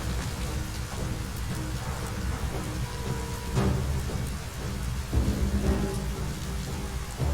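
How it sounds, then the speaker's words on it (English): Heavy rain pours in the video game Biomutant, a dense, loud hiss throughout, with rolling thunder rumbling in around the middle and again near the end, and no voices over it. "Look how much rain is coming through."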